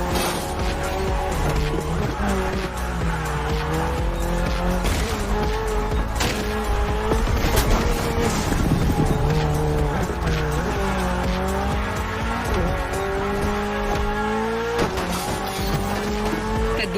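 A Mitsubishi Lancer Evo X in The Crew Motorfest racing game, engine revving loudly through shifting gears with repeated tire squeals and skids, a sustained high-energy drone with a brief crash-like burst midway.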